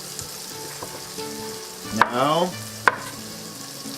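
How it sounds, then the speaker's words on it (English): Vegetables sautéing in a pan for shrimp linguine, a soft continuous sizzle with a few clinks and a scraping stir midway, and someone speaking briefly over it. "And our vegetable saute in here."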